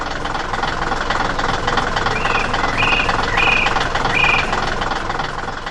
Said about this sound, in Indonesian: Sebuah alat bor spiral sedang bekerja keras di tengah batu dan tanah